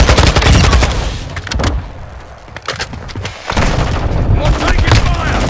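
Rapid bursts of gunfire and booming blasts from the Call of Duty Domination multiplayer mode, loud and close, in dense overlapping volleys with a brief lull midway, while voices call out over the shooting.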